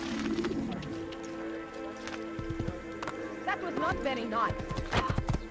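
In Assassin's Creed I, a stolen horse's hooves clip-clop in quick irregular beats, louder toward the end, over game ambience with birds and pigeons cooing.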